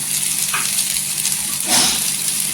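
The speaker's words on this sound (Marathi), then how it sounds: "सुकी मसाले छान असं तेलावर परतून घ्यायचं" Dry spices, including coriander powder, turmeric, Kashmiri red chilli powder and a dark homemade masala, fry in oil for bitter gourd sabzi, a steady close sizzle with two brief stirring swishes and no talk.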